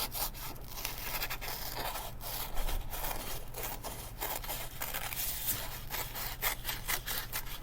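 Scissors snip steadily through paper, cutting out a circle for a paper cake craft; repeated close, crisp cuts and rustling form an uneven rhythm with no talking.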